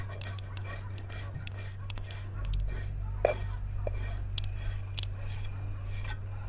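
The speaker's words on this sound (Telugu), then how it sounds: "నేను ఇట్లా కత్తి పట్టి మంచిగా గీక్తాను" A kitchen knife scrapes scales off a large rohu fish in a village kitchen, giving repeated close rasping strokes over a steady low hum, with a few sharper clinks.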